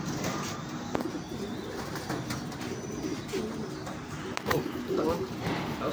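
A pigeon coos repeatedly in low, throaty bursts over outdoor background noise, with a few faint clicks and thumps.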